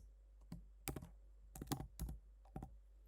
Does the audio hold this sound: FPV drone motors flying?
no